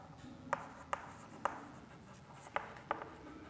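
Pen writing on paper while a maths problem is solved, faint scratching with five sharp taps as strokes and marks land, close and quiet.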